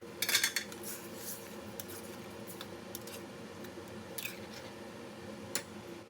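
Rice is tipped into boiling water in a pressure cooker and stirred for gobi pulao: a short rattling burst at the start, then scattered light metallic clinks of a spoon against the pot over a low, steady simmer.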